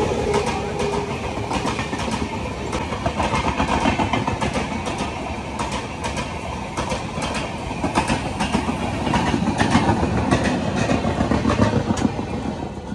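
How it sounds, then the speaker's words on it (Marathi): The Mandovi Express pulls away after halting at a crossing on a foggy monsoon run through the Konkan, heard from aboard as a steady, close rumble with rhythmic clickety-clack that grows slightly louder as it gathers speed. "ट्रेन निघालेली आहे."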